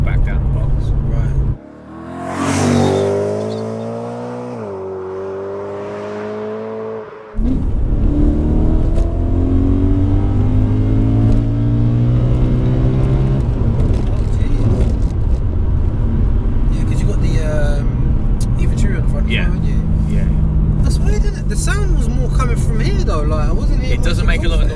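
From inside a track-spec BMW M3, the engine's tone climbs and drops through repeated pulls, a steady rising whine and rumble with a brief lull early on; people talk throughout.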